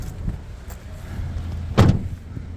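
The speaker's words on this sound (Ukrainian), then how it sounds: "Бачите, виїжджає підножечка. Відкриваємо дверцята" A Ford Transit passenger van door opens with a short thud and mechanical whir of a step sliding out close by, over a low idling engine hum.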